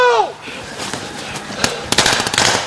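A grenade explodes in a military combat setting as a series of sharp, loud bangs and crackling bursts, like firecrackers, with a rising whistle-like tone at the start and voices mixed in.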